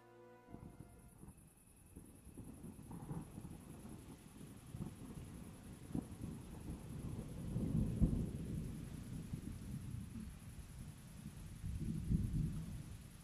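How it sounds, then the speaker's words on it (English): Rain and rolling thunder in the medieval role-playing game Kingdom Come, a low steady rumble with swells around the middle and end, fairly faint and continuous, with no one speaking. "It's raining."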